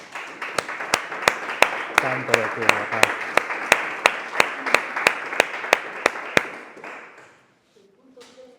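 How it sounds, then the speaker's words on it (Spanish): A church congregation claps in steady unison, about seventeen sharp claps to a sung worship song, then falls quiet near the end. "Dan un fuerte aplauso a Cristo Jesús"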